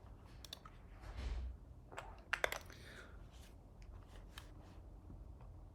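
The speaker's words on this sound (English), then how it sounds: "Cool keyboard sound." Someone types on a computer keyboard at a desk, producing soft scattered key clicks with a couple of sharper taps, faint and close.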